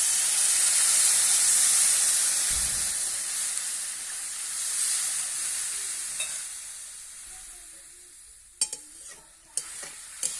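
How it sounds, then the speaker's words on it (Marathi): Water in a cooking pot of sautéed potatoes comes to a boil, making a strong, steady bubbling hiss that slowly fades, followed by a few sharp clicks near the end. "हे बघू शकता तुम्ही छान अशी उकळी आलेली आहे"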